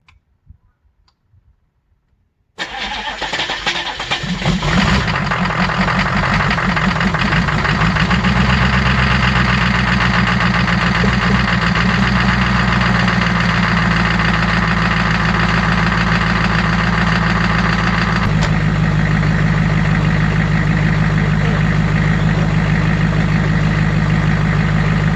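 A 6.5L twin turbo diesel engine cranks and fires after a brief near-silence, then settles into a loud, steady idle with a ticking, knocking rhythm that shifts slightly in tone partway through.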